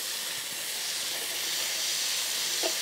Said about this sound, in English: we're going in with our diced onion. Add that to the party. Give that a good mix. Let the onion cook down,